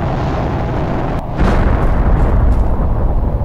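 A meteorite impact in The Planet Crafter video game: a heavy boom that swells into a loud, sustained rumbling roar, with no talk over it.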